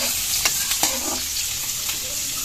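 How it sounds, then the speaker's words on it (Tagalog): Chopped onion, garlic and ginger sauté in hot oil in a home kitchen for Bicol express, giving a steady close sizzle broken by a few sharp scraping stirs of the spatula against the pan. "ilalagay na po ni mama yung Sibuyas, bawang at loya. luya, bawang, sibuyas. Ay magigisa na."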